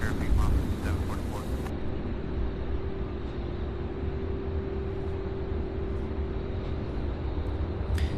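Jet engine roar from an American Airlines Embraer E-145 departing runway 35 left at Louisville International Airport, a steady broadband rumble holding at moderate loudness throughout, distant and continuous with no talk.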